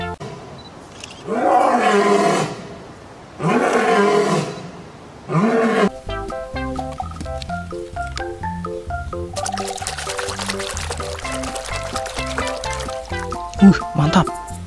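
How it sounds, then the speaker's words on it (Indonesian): Two deep, roaring lion calls from a toy figure, loud and close, each lasting about a second with a pause between, followed by a toy's bright electronic music jingle that plays to the end. "Wih, singa."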